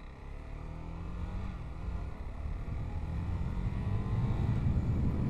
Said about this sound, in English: But I really like the sound of this bike.